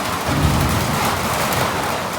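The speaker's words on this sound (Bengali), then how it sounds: "এই বৃষ্টিতে বীজ জায়গা ফেলা" A rainstorm pours down steadily during a rainy-day fishing outing, with a low rumble of thunder swelling early under the continuous loud wash of rain.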